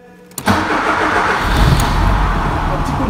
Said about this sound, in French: Tu lances le moteur.